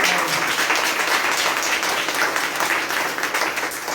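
A church congregation claps in praise during a Sunday service, a dense, steady roar of many hands applauding together, sustained and fairly loud throughout with no speech over it.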